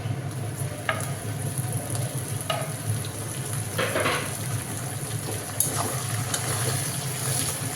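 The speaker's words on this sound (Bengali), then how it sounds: "দেখুন পেঁয়াজটা লাল লাল করে ভাজা হয়ে গেছে।" Onions frying in a pan ahead of tomatoes being added: a steady close sizzle with intermittent scrapes and stirring clicks throughout.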